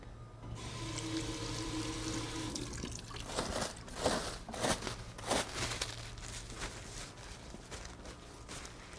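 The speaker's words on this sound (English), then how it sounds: "Had to wash my hands really quickly." Hands washed quickly under a running tap in a culinary kitchen, with a steady stream of water splashing and fluctuating as the hands move through it, fairly quiet.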